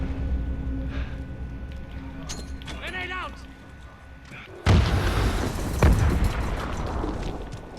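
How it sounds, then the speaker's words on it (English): A grenade blast in the Call of Duty: Modern Warfare video game bursts in suddenly partway through, a loud broadband boom with a second surge just after, following game radio chatter and voices. "Grenade out!"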